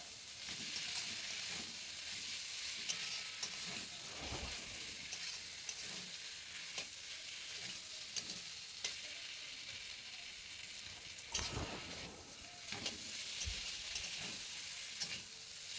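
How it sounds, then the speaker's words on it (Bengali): Goat tripe frying with ground spice paste in a pan gives a faint, continuous sizzle broken by repeated scraping stirs and occasional sharp metallic knocks of the spoon against the pan. "এরপর দিয়ে দেবো ভুঁড়ি কটা, যাতে সমস্ত মশলার সঙ্গে ভুঁড়ি কটা কষানো যায়"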